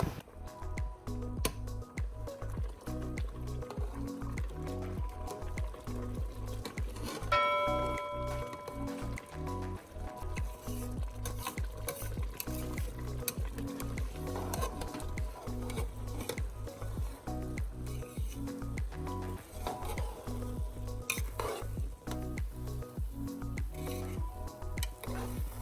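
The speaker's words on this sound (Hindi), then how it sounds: "इस दौरान में चावलों को कभी कभी चम्मच से हिलाते रहें।" Cumin basmati rice stirred now and then with a spoon in a cooking pot, soft scraping and wet squishing with a low sizzle running throughout, faint and close.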